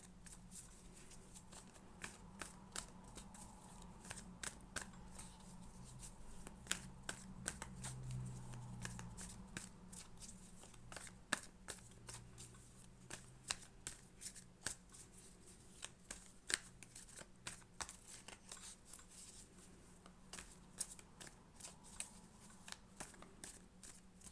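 A deck of classic tarot cards is shuffled by hand for a long stretch, with rapid, quiet riffling and soft card slaps repeating at close range.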